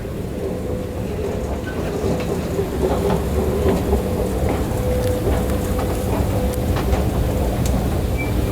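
A train arriving at a station in Athens rumbles steadily nearby with a low, continuous rolling noise and faint metallic squeals, no voices.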